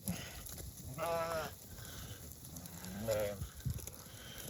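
Ewes and lambs bleat on a farm on weaning day, two clear wavering bleats about two seconds apart, moderately close, over rustling outdoor noise and the shuffling of a moving flock.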